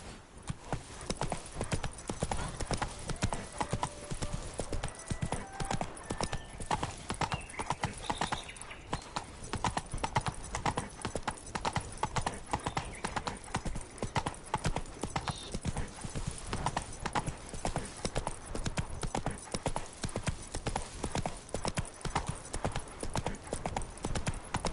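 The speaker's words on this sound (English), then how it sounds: "Run, Roach." Hooves of the horse Roach clip-clop steadily at a gallop in The Witcher 3, a continuous rapid rhythm with game ambience behind and an occasional whinny.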